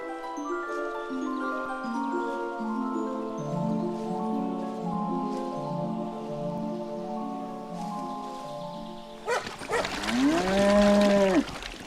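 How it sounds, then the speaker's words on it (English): Village cattle low as the cows leave their shed for the first time in the year, in a Polish nature reserve. Several drawn-out moos come close and loud near the end, after a stretch of layered tonal music. "Today the cows are leaving their shed for the first time this year."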